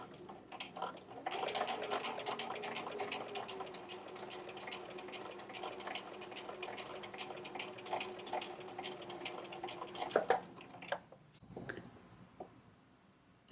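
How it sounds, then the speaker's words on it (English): Sewing machine stitching vinyl fabric for a doll shoe, a steady close whirring run of about nine seconds with a brief stop and a few short bursts at the end. "I'm just going to stitch right along that line"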